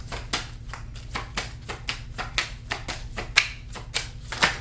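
Tarot cards are shuffled by hand in a quick, even rhythm of soft riffling clicks and slaps, close and fairly quiet over a low background hum.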